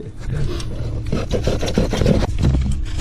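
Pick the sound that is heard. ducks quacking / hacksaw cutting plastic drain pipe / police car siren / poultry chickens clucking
hacksaw cutting plastic drain pipe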